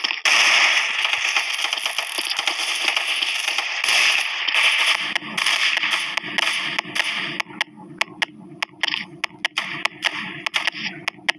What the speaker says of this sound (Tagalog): Kasi maingay talaga dito guys pag putukan talaga.